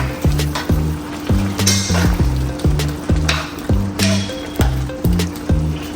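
Brown stew meatballs in coconut milk stirred in a pot for a Jamaican-style dish, a spoon scraping and knocking in a steady rhythm of repeated strokes over a low simmering sizzle, close and fairly loud.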